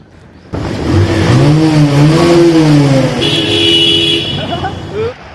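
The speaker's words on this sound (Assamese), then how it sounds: "এই গুহাটোৰ ভিতৰত বাইকৰ RPM চাব দে কেনেকুৱা লাগে, পূৰা বেলেগ শব্দ উঠে কিন্তু" A motorbike engine revs inside a cave-like tunnel during floods, the note rising and falling with echoing, booming resonance, loud and close, ending with a brief higher whine.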